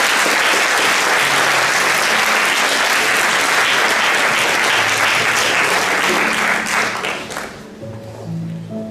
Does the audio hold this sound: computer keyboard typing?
no